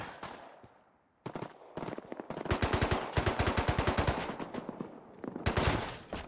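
Rapid bursts of gunfire from a pistol in a zombie video game crackle in quick clusters, loud and close, separated by brief pauses.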